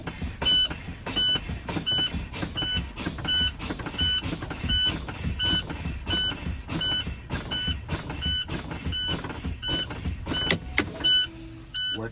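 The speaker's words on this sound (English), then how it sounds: "Now I'm gonna continue fanning my brakes." Truck air brakes fanned repeatedly during a pre-trip check, sharp rhythmic hissing bursts of released air with a pneumatic valve clunk, about a dozen evenly spaced pumps, loud and close, until the tractor protection valves pop out.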